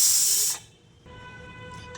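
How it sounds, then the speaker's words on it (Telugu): A pressure cooker used for boiling eggs releases a sharp, loud burst of steam hiss as it is opened after one whistle, lasting about half a second before dropping to a faint steady hum. "వన్ విజిల్ వచ్చిన తర్వాత స్టవ్ ఆఫ్ చేసి దీన్ని ఓపెన్ చేసుకున్నామండి"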